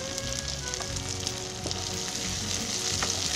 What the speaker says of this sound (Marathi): कांदा आणि टोमॅटो आहे ना चांगला शिजवून घ्यायचा एकदम मस्त